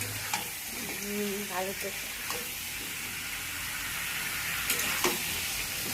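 Chicken pieces frying in a pan give a steady, close hiss and sizzle with a few stirring scrapes, while someone speaks briefly over the cooking.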